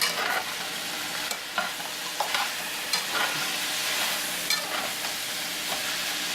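Pork and carrots stirred in a sizzling pan for Korean pork, with steady frying hiss and several scraping strokes of the spoon against the pan, close and alone with no voices.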